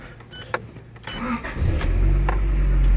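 A car engine is started and settles into a steady low idle, rising in loudness after a couple of brief mechanical clicks and whirs, heard up close in a shop setting with no talking.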